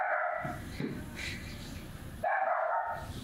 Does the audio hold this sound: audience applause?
no